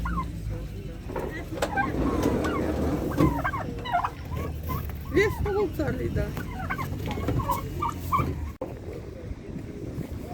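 Turkeys gobble and chatter in a busy market livestock area, a flock of warbling calls under occasional nearby talk.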